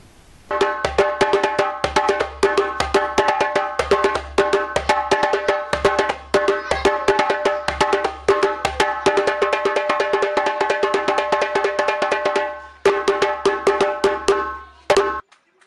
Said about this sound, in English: That was the sound of hands against goat skin